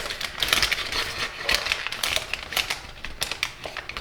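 Paper being folded into Satoshi Kamiya's origami fiddler crab gives off quick, crisp crackles and crinkles, close and fairly quiet, with no talking.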